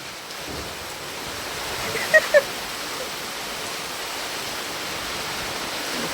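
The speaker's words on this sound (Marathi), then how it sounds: "आता संध्याकाळी एकदम जोरदार पाऊस आलाय" Heavy evening rain pours in a Konkan village in a dense, constant roar, with two brief faint chirps near the middle.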